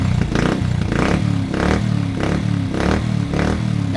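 A stalled motorcycle with a low battery is revved hard to full revs during a stator coil voltage check, its engine roaring loud and close in steady rhythmic surges about every half second.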